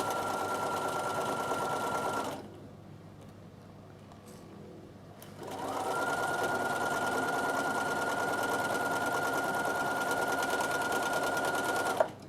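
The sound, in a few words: sewing machine stitching a Christmas table runner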